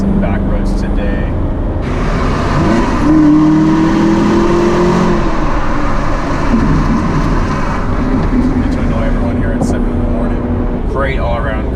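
A 2017 Chevrolet Camaro ZL1 with its 650 hp engine drives on back roads, a steady loud engine drone with a surge of acceleration partway through, heard from inside the car.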